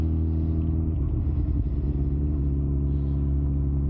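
A motorcycle engine hums steadily with a low rumbling drone while riding along a road, close and even throughout.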